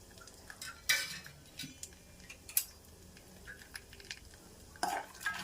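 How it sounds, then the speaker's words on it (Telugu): Dry fruits being fried in a pan for moong dal payasam, with a spoon scraping and clinking against the metal in sporadic taps over a faint, quiet background. "డ్రై ఫ్రూట్స్ని చక్కగా ఇలాగా మనం ఫ్రై చేసుకోవాలి."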